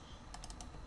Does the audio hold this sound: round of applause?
no